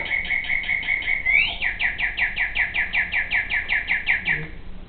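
A small bird chirps in a quick, steady series of high bright notes, close and clear, repeating rhythmically for several seconds.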